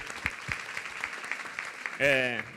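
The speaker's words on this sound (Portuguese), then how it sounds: "Palmas para as outras pessoas que estão aí." Scattered light applause from a small audience at a debate on media, fake news and democracy, soft and uneven claps under a background voice, ending in a brief louder tonal burst.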